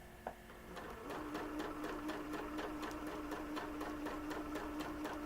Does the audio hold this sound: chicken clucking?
no